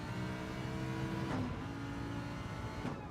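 A Lamborghini race car in a racing video game, its engine droning steadily then shifting pitch as it revs through gears, loud and close with no voices.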